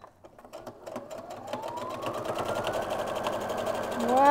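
A sewing machine stitches puff quilt blocks together, its motor starting with a few taps and then speeding into a steady whirring run that rises in pitch and loudness. Talk is heard alongside it.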